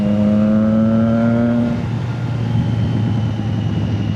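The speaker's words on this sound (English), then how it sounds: "My favorite thing is like rolling on the throttle and then like letting go for the pops like this" A vehicle engine holds a steady revving drone, then the throttle is released and the tone drops away into a rougher, crackling exhaust burble. It sounds loud and close, with no talk.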